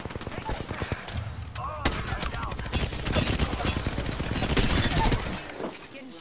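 Gunfire in the video game Apex Legends: rapid, dense bursts of automatic fire crackle almost continuously and build in intensity, with a player's voice talking over part of it.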